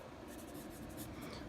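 Soft, continuous scratchy strokes of a Palomino Blackwing graphite pencil moving across paper, faint and close with a steady hiss and light rhythmic scraping.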